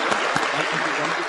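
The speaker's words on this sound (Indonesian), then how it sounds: "Jadi tepuk tangan sekali lagi buat lingkungan One Vision." Dense, steady applause from an audience fills the whole moment, a loud continuous wash of clapping hands without pauses or voices standing out.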